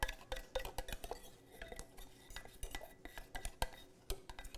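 Melted chocolate is stirred into wet batter ingredients in a bowl, with rapid, irregular clinks and scrapes of a utensil against the dish. The sound is close and fairly quiet, with no voices.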